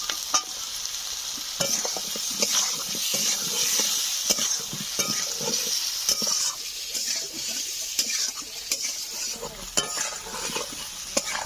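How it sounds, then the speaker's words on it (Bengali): Garlic cloves and raw tomatoes fry in a village-style pan, giving a steady, close sizzle broken by frequent scraping strokes of a stirring utensil. "দু মিনিট ভেজে নেওয়ার পর দিয়ে দেবো এখানে রসুন কোয়া"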